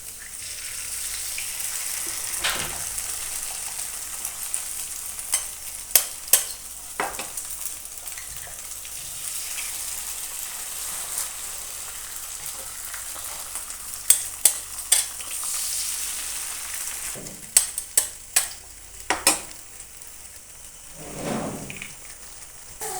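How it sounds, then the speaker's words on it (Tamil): Egg cracked into a pan with sautéed chili powder for egg podimas and stirred as it fries, a soft steady sizzle punctuated by sharp spatula taps and scrapes in clusters. "இப்போ நம்ம முட்டையை உடச்சி ஊற்றிக்கலாம்."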